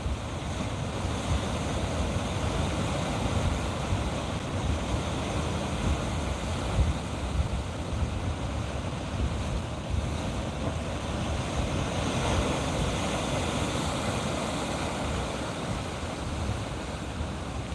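Waves break steadily against a cliff and beach at Palmetto Bay, Barbados, with wind buffeting the microphone in a continuous low roar of surf that never pauses.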